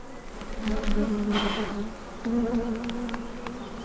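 Bees buzz close by, their droning hum rising and falling as they fly past, with a slight drop in the middle before swelling again.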